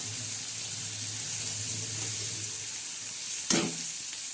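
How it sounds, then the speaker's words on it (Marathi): Tomatoes and onion fry in a pan with a steady, even sizzle, joined near the end by a brief splash of water; no one speaks. "टमाटर बी आता फ्राय करत आहे आपण"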